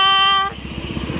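A motorized tricycle drives past close by, its engine giving a steady, rhythmic pulsing chug that holds for about a second after a short high tonal whine cuts off.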